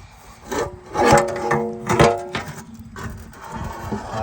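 A 4L80E automatic transmission oil pan is worked loose and pulled off after its bolts are removed, giving several scraping, rubbing metal clunks and rasps close by, with no talking.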